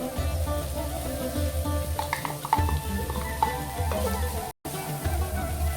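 Grated carrot stirred into softened tomatoes in a hot pan, a continuous close sizzle with scraping spoon strokes against the metal and a very brief dropout near the end.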